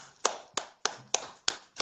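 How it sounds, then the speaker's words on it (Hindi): Six sharp, evenly spaced hand claps, fairly faint and close, in a morning motivational session of a DXN group, each clap a crisp separate strike with short quiet gaps between. "सबको जोरदार तालियां"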